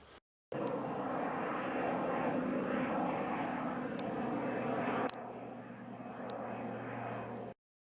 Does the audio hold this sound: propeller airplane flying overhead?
yes